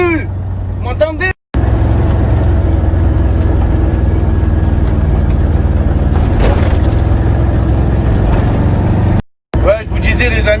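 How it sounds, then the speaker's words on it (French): A car engine drones loudly and steadily at close range, a thick low rumble that fills nearly the whole stretch and cuts out briefly near the start and end, with someone talking over it at the edges. "vous m'entendez que le bruit du moteur?"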